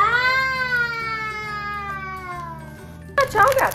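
A cat lets out one long, drawn-out meow that slowly falls in pitch, close and clear, followed by a burst of a person talking.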